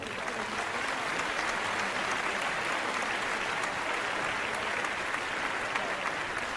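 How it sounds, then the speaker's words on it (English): A crowd applauds steadily at a moderate level for Princess Luna's arrival in Ponyville, a dense, even patter of many hands that does not fade or swell. "I thank you for your applause and your very warm welcome."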